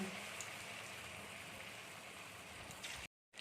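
Jackfruit pakoras frying in hot oil, a steady close sizzling hiss with fine crackle, fairly quiet and continuous until it cuts off abruptly near the end.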